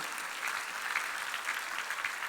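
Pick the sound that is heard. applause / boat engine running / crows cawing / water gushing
applause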